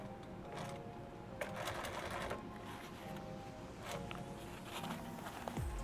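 A sewing machine stitches through a canteen cover, a steady close mechanical chatter with a few louder clacks and shifts in pace, heard alone at low level.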